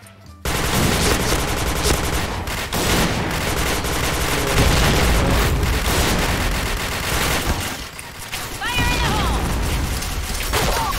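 Gunfire in a shooter game on the map Sandstorm rings out as loud, sustained automatic bursts and cracks almost throughout, with brief dips and a few mechanical clatters.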